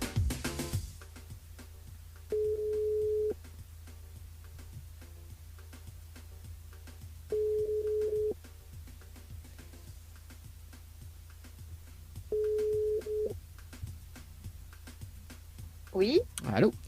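Telephone ringback tone on a live radio call: three evenly spaced long tones repeating about every five seconds over a low steady hum, with a brief rustle at the start and end.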